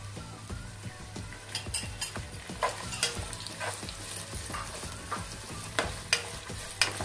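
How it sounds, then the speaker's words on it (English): Chopped shallots fry in a hot pan with a soft continuous sizzle, broken by scattered scrapes and clinks of a utensil stirring against the metal, quiet and close with no talking. "let's put some chopped shallots, that is onion, let's just fry it."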